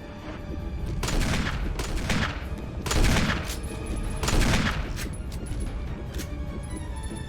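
Gunfire in the video game Resident Evil HD, loud bursts of rapid shots fired in several heavy volleys, each swelling and fading over continuous background game noise.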